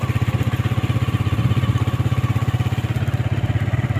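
Motorcycle engine running steadily while riding on a rural road, a close, continuous low pulsing drone with fast regular firing rhythm and no talk.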